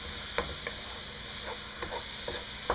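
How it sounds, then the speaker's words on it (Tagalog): Ground beef sizzles softly in a pan for lasagna in bechamel sauce, while a spoon scrapes and stirs it in several distinct strokes against a steady frying hiss. "Pag ilagay, kailangan lang itong paghaluin mabuti."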